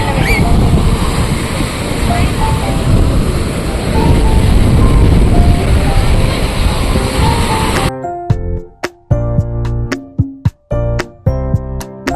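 Waves breaking on a busy, sunny beach make a loud, continuous roar of surf for most of the stretch. The roar then cuts off abruptly and is followed by sparse, close voices and clicks.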